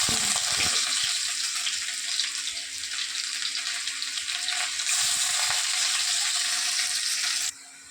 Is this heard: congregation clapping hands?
no